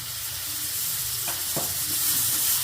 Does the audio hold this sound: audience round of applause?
no